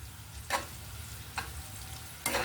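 Potato pieces frying in a pan for a capsicum vamitala kaaram curry: a low, steady sizzle with three brief scraping stirs spaced a second or so apart, close and without talk.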